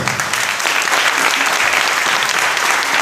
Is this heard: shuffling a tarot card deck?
no